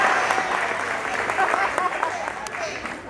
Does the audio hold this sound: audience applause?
yes